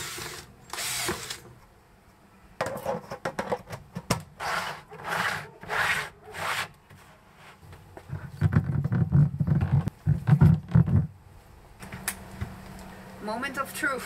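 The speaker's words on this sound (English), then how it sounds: "I'm going to drill a hole in the lid up here" A power drill whirs in a series of short bursts, grinding and chattering as it bites through a plastic rain barrel lid, with quieter pauses between.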